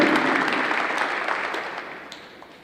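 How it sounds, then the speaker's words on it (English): Students applaud their guests at a high school awards evening, a broad wash of clapping that starts loud and slowly fades over a couple of seconds. "Students, could we get a round of applause for your guests?"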